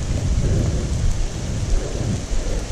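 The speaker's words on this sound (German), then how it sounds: "bei strömendem Regen in der Slowakei unterwegs" Heavy pouring rain near old mine workings by Bratislava, Slovakia, hisses steadily and loudly while deep rumbles of thunder roll underneath, with no voices.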